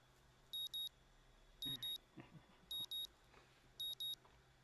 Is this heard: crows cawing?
no